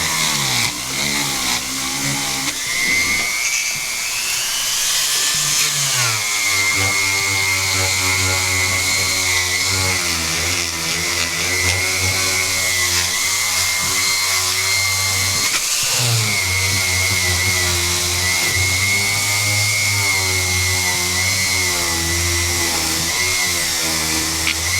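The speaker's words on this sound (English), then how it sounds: "now we'll take the Scotch-Brite buff and go in and finish the port." A Scotch-Brite buff on a rotary tool finishes the ports of a Kawasaki 650 jetski cylinder, giving a steady, close, high-pitched whine that dips briefly in pitch as it bites the metal and then recovers, running continuously with no talk.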